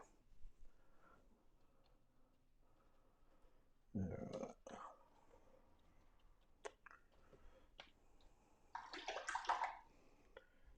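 A paintbrush dips and swishes in a water jar during watercolour painting, giving a soft splashy burst, then faint ticks and taps, then another brief wet swirl, all quiet and close.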